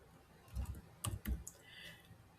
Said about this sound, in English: I'll type